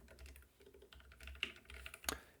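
Lubricated switches on a Keychron K9 Pro keyboard clack under steady typing, a run of soft close keystrokes with a sharper burst of clicks near the end, no voices.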